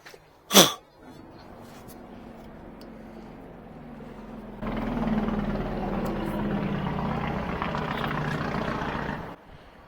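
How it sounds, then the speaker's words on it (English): Engine brake on a 1984 Freightliner cabover truck with a faulty, bad-sounding jake: a sharp short burst first, then a steady loud rough roar that kicks in midway and holds for several seconds before cutting off. "Your jakes sound horrible, dude."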